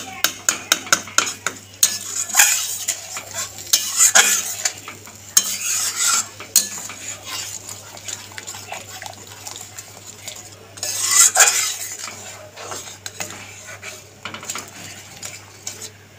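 A spice paste of poppy seeds, melon seeds and green chili is stir-fried in oil, a metal spoon scraping and clinking against the pan in irregular strokes over a soft, continuous frying hiss.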